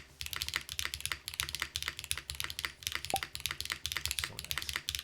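Typing on a Luminkey Lumino75 75% mechanical keyboard: a fast, continuous run of close-up clacky keystrokes, quiet overall with a slightly hollow character and no voices.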